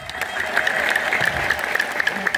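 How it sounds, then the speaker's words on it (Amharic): A church congregation applauding for an archbishop, a dense, even wash of clapping at moderate loudness with no speech over it. "ስለዚህ እግዚአብሔር ለእኒህ ታላቅ አባት አጨብጭቡልኝ"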